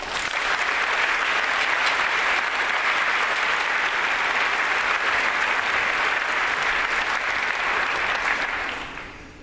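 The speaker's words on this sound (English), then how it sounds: "we should give a big round of applause to the opening sequence from Takatera dancers" A large audience at a solar car event claps for the Takatera dancers' opening performance, a thick, sustained roar of applause that stays strong for several seconds before tapering off.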